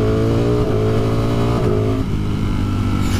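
A 2020 Ducati Streetfighter V4 motorcycle roars loud and close, its V4 engine revving hard with rising pitch sweeps through a few gear changes, continuous and aggressive.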